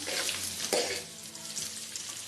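About two and a half spoonfuls of butter melting and frying in hot oil in a pan for butter chicken gravy, giving a steady close sizzle with a brief surge partway through.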